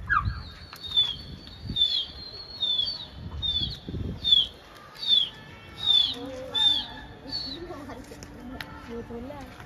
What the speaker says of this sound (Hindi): फिर उड़ा दिया सौरभ ने कबूतर दोस्तों।